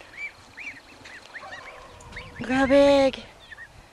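Young geese honk on a farm, a few brief calls followed by one loud, drawn-out honk close by, with a person speaking briefly over them.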